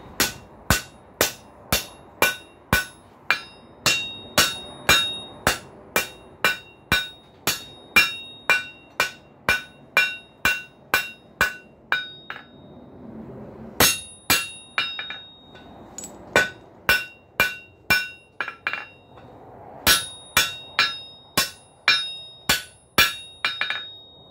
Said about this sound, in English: Now work on the side and top of the anvil.